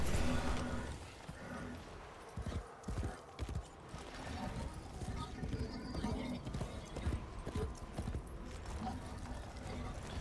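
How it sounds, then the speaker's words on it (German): A horse gallops in the video game Warframe (Duviri Paradox), with quick rhythmic hoof clip-clops and a whinny over a game soundscape, moderately loud with a voice speaking at times. "ich kann hier auch mit dem Pferd rumlaufen"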